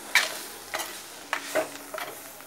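Beetroot curry with a light sprinkle of pepper powder being stirred in a pot, a few soft scraping strokes spaced about half a second apart over a faint background hiss.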